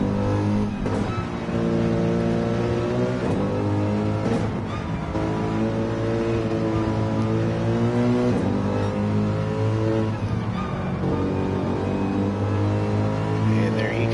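A race car engine in a racing video game at Suzuka through the S curves, loud and continuous with a rich harmonic drone that rises and falls through gear changes, a commentator's voice running over it.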